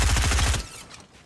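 Rapid burst of submachine gun fire in a Fortnite-style shooter game, a dense rattle of shots for about half a second, then a quieter tail of faint game noise.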